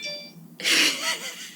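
A phone notification from the Words With Friends app sounds briefly as a few thin tonal beeps, followed by a louder breathy, airy burst.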